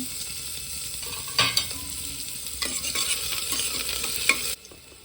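Finely chopped onion and tomato frying in a pan with garlic, a steady close sizzle broken by several clattering stirs of a spoon against the pan, then a sudden drop to quieter frying at the end; no one speaks.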